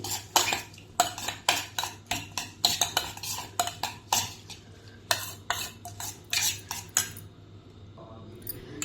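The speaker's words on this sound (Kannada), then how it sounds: "ಇದನ್ನೆಲ್ಲ ಕಲಿಸ್ಬೇಕು ರೀ" A spoon stirs vegetable sandwich filling seasoned with salt and tomato ketchup in a bowl, making rapid, repeated clinks and scrapes against the dish in an irregular rhythm, close and clear.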